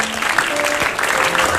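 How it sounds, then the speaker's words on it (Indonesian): Studio audience applauding on an Indonesian TV comedy talk show set, a dense steady wash of clapping lasting under two seconds with no voices on top. "Iya, tepuk tangan dong."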